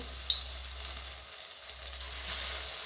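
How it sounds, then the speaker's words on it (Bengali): Batter-coated cauliflower pakoras frying in hot oil in a kadai, a soft, steady hiss and sizzle that briefly dips, then rises again as more pieces go in. "একে একে আমি তেলের মধ্যে দিয়ে দেবো।"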